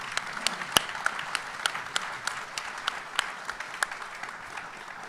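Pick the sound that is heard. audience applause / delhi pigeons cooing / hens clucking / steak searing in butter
audience applause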